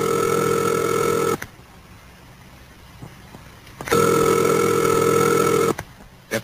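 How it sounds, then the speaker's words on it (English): A telephone ringback tone sounds in two long steady bursts separated by a quiet gap, loud and clear with no talking. "And this is the ringing signal."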